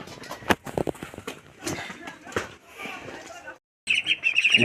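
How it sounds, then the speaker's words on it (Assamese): Ducklings chirping on a small farm that also keeps pigs, with thin high peeps scattered through the clip and a denser cluster near the end, mixed with people talking and some shuffling movement. "ইফালেও আছে হাঁহৰ পোৱালি।"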